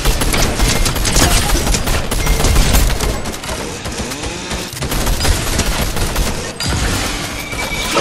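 Dense, loud gunfire from Fortnite, rapid automatic bursts and overlapping shots rattling continuously with brief dips, close and dominant throughout.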